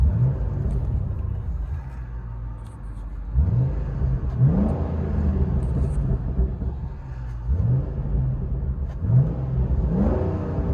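Inside a 2015 Chevy SS with a 6.2L V8, dual exhaust and resonator delete: a steady, deep exhaust rumble broken by repeated short throttle blips that rise and fall, about half a dozen spread evenly across the stretch.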